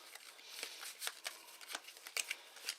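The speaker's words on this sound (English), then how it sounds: "Shuffle these bad boys up a bit." Eldritch Horror game cards being shuffled by hand, a quick run of soft papery riffles and flicks in uneven bursts, close up and fairly quiet.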